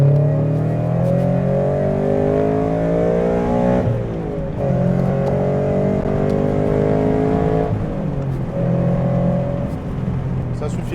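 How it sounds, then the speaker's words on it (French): Loud, droning engine of a Toyota GT86 with a decatted exhaust while driving, holding a steady hum with two brief shifts in pitch, as people talk over it inside the car. "Mais pour une voiture qui est décatalysée, ça va encore, c'est pas hurleur."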